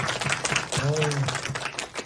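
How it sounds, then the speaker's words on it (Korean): An audience at a social welfare department workshop talk show claps for two alumni, a burst of scattered applause with a voice speaking over it midway. "우리 두 분 동문 위해서 다시 한번 박수 한번 부탁드립니다"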